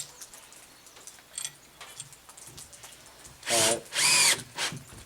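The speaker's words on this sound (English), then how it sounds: "And then we just screw it in place roughly central as best as we can make out." A cordless power drill drives screws in short bursts, with a couple of faint brief whirs and then two loud, close whining runs that rise in pitch, followed by a shorter burst, amid light handling noise.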